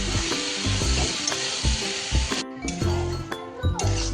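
Tarka dal sizzles and fries in a pan while being stirred, with steady hot crackle, a sharp cut-off midway as the heat or lid changes, and repeated metal clinks and scrapes of the spoon against the pan.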